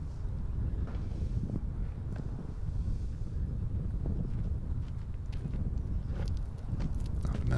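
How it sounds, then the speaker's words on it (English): Strong gusty wind at a disc golf course buffets the microphone as a constant low rumble, with faint scattered ticks and rustles over it and no clear talk. "sounds like some pretty strong wind, headwind right to left"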